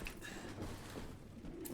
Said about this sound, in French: Des pigeons!